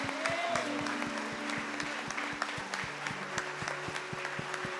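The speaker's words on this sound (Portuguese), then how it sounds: "Pode aplaudir ao Senhor pela vida do pastor João." A church congregation applauds steadily and loudly, a dense continuous patter of many hands, with a sustained organ or keyboard chord sounding beneath it.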